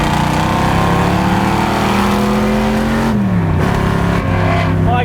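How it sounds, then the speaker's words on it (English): A loud Mustang Shelby GT350 engine drones at high revs, then blips sharply as it downshifts, pitch dropping and surging back. "but Yuri, one last downshift in this car"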